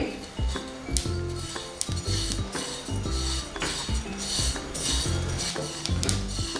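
Sesame seeds and cumin roasting in a pan, a spatula scraping and clinking against the metal in busy, irregular strokes over a soft sizzle, close and fairly loud.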